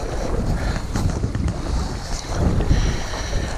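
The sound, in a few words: wind blowing on a boat on the water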